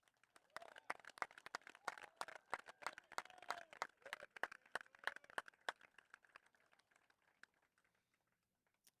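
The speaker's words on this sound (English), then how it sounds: "Round of applause for our youngest captain here" Audience applause at a youth cricket league closing ceremony, a dense run of sharp individual claps from a modest crowd, steady for several seconds then thinning out and fading to a few scattered claps.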